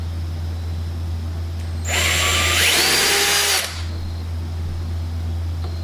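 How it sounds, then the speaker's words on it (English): A power drill bores a hole through an aircraft firewall, a loud close whine of under two seconds rising in pitch as the bit cuts, set between quieter stretches of steady background hum. "make sure that the drill is lined up really well, perpendicular to both both directions to the firewall here"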